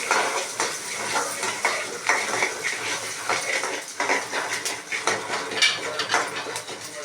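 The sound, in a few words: onions being sautéed in a pan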